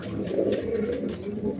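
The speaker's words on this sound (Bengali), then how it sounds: "কবুতর সুস্থ থাকলে কবুতর ডাকাডাকি করবে, এটা স্বাভাবিক।" Pigeons coo in a low, continuous rolling murmur close by, steady and moderately loud, with several birds overlapping.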